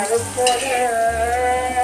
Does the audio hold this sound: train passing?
no